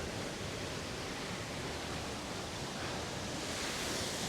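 Flowing river water near waterfalls in Northern Ireland rushes as a steady, dense, close roar of broadband noise with no pauses and no voices.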